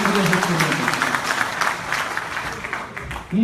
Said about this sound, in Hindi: अगर आप एक बार जोरदार ताली बजा करके मुझे